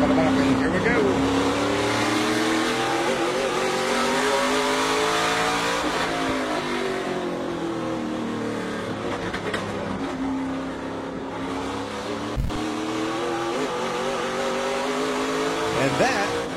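SRX race cars roar around Stafford on the winning pass, their engines forming a loud, continuous, rising and falling drone throughout, with a commentator talking over the noise.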